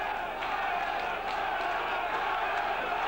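A boxing crowd at an All Ireland final roars wildly in a dense, steady wall of cheering and shouting, loud and sustained from start to finish.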